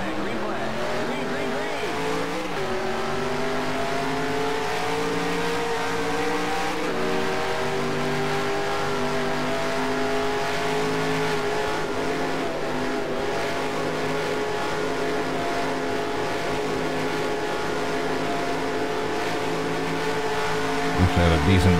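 Loud race car engine in NASCAR Racing 2003, a continuous droning roar with rising and shifting pitch as the car accelerates, steady throughout and close.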